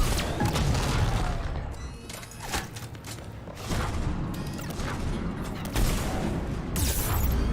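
Video game gunfire during a war against Reapers, rendered as dense bursts of booming, crashing shots that continue through the whole stretch, loud and close, with some speech mixed in.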